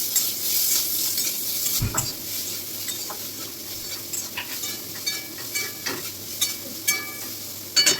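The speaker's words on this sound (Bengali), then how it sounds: "আমাদের নুন দিলাম, দিয়ে এটা ভালো করে ভেজে দেবো।" Potatoes with turmeric and salt fry in a pan with a continuous hiss and sizzle, while a spatula scrapes and stirs in short, irregular strokes, close up and without speech.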